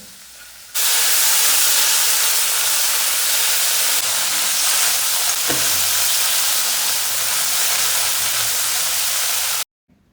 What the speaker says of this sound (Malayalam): വെളിച്ചെണ്ണ വാർന്ന് നമ്മൾ കടുക് വറ്റൽമുളക് ഇത് നല്ലപോലെ താളിച്ചിട്ട്